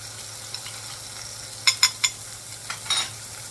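Glazed salmon fries skin side down in a pan, a quiet steady sizzle running underneath while a few sharp clinks of a utensil against the pan ring out close by.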